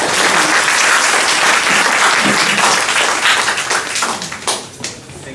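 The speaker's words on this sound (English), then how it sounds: "If you could give another round of applause." Conference audience giving a round of applause, dense clapping sustained for several seconds before thinning out into scattered claps near the end.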